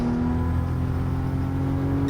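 Toyota GR Supra 2020 in a racing video game accelerating steadily, a constant engine drone with a strong low tone holding level throughout, loud and close with no talk.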